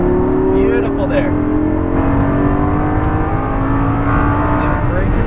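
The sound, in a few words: exotic sports car accelerating at full power on a race track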